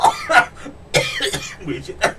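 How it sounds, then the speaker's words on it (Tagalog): A few short coughs, close and fairly loud, broken up by brief pauses. "Natuluyan tuloy akong umubo."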